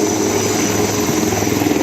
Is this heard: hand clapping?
no